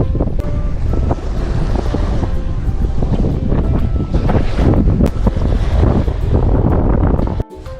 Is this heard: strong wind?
yes